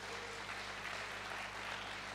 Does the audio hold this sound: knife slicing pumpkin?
no